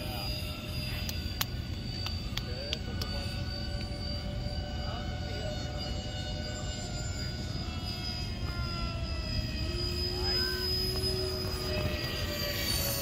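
An EDF FT A-10 model jet takes off with a steady high electric ducted-fan whine, pitch shifting as it climbs away outdoors, a continuous loud drone throughout.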